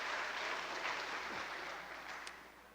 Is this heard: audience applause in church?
yes